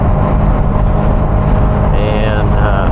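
A Ferrari 348 with a performance modification produces a loud, close, steady engine roar with a deep rumbling drone and slight rises in pitch near the end.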